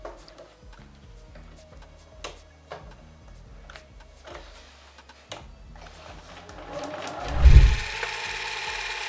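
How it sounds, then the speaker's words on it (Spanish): A sewing machine stitches leather in short, quiet bursts of rapid ticking with pauses between them, ending in a louder clunk and a brief surge of mechanical noise. "Cuando coses puedes parar, levantar el prensatelas y mover la aguja moviendo el volante"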